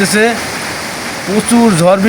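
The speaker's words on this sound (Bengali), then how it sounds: "প্রচুর ঝড় বৃষ্টি হইতেছে, ঝিলকিতেছে।" Heavy storm rain with lightning in a village in Manikganj district, Bangladesh, a loud steady hiss of downpour heard close, with someone talking over it.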